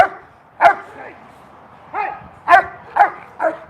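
A dog barks in short, sharp bursts during protection training, about six loud barks spaced irregularly over a few seconds, with a handler's voice faintly underneath.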